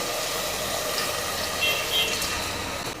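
Water being poured into a pressure cooker of chicken masala for biryani, a steady close rushing splash lasting the whole short moment.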